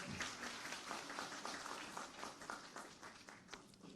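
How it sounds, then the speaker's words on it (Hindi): Sustained applause from a crowd welcoming Uttarakhand farmer producer company recipients at a GI certificate distribution ceremony in Dehradun, dense steady clapping filling all four seconds with a few sharper claps standing out near the end. "ताली बजाकर स्वागत है।"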